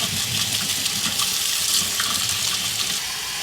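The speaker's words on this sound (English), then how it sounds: "We're going to fill up the flask here." Tap water runs steadily into a flask containing PBW cleaner and a stir bar during a home-brewing yeast starter setup, a loud continuous gushing stream close by, with no talking.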